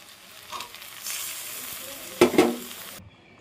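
Washed lentils, tomato and green chili fry in a pan for bhoger khichuri, a soft hiss rising to a louder sizzle with a couple of sharp stirring scrapes before the sound cuts off.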